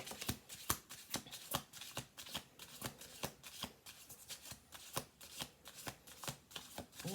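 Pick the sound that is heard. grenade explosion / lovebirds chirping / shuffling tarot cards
shuffling tarot cards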